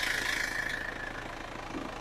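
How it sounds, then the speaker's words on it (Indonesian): A 2002 Isuzu Panther pickup engine idles at a steady low rumble, faint and continuous throughout, with no talking. "Sekarang kita cek mesinnya"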